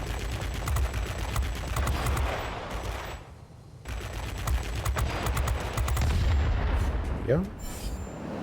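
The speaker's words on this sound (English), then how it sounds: "These guns!" Heavy, rapid automatic gunfire in Attrition mode of a shooter video game, loud, near and sustained in bursts, with a short pause midway and a rising whoosh near the end, under occasional talk.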